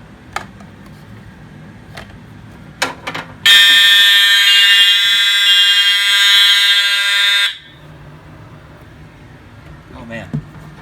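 System Sensor fire alarm horn sounding during a walk test: a loud, harsh, high-pitched electronic tone blaring steadily for about four seconds, preceded and followed by quieter background noise and a few clicks and knocks.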